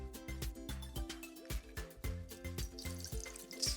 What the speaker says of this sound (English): rub the penny with your fingers and then rinse it with water